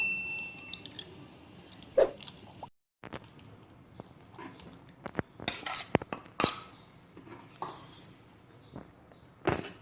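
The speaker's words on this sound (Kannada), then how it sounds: "ಈಗ ಇದನ್ನೆಲ್ಲ ಸರಿಯಾಗಿ ಕಲಿಸ್ಬೇಕು" A spoon clinks and scrapes against a bowl in short, irregular bursts while bisi bele bath ingredients with tamarind water are stirred together, with a brief silent gap early on.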